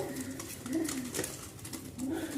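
Rajshahi Giribaz pigeons coo softly among a group of caged birds, low throaty calls rising and falling over a noisy, faint background.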